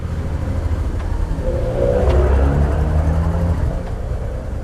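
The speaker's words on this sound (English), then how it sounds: "there's a car coming" A car approaches and passes on a mountain road at Col de la Machine, its engine rising to a steady, fairly loud rumble and then fading.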